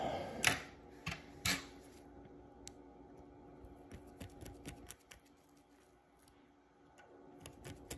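Tiny screws are driven into a Seiko 6139 automatic chronograph movement, with faint close clicks and small metallic ticks from the screwdriver and a couple of sharper taps early on.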